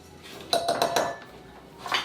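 A spoon stirs oatmeal triple-chocolate cookie dough in a mixing bowl, giving a quick cluster of clinks and scrapes against the bowl, then a pause and one more clatter near the end, close and fairly quiet.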